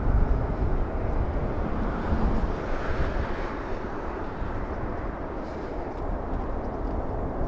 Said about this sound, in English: Aero Mexico 783 flying to Guadalajara, 737